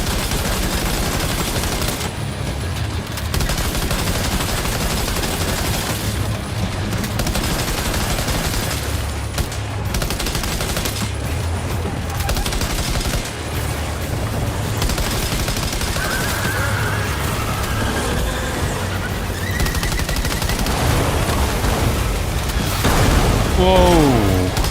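Rifle fire and bursts of gunfire in the video game Death Stranding 2, loud and dense throughout under game music and effects, with a voice talking over it.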